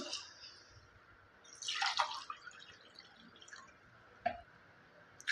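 Water is poured into a pressure cooker to cook Kerala red rice, giving a few close splashing, dripping bursts with quiet gaps between them and no talking.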